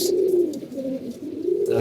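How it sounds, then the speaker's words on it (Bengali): A pigeon coos close by in soft low repeated phrases, with faint background noise. "দেখেন একটা কবুতর দিছে এই কবুতরটা আমার খুবই ভালো লাগে"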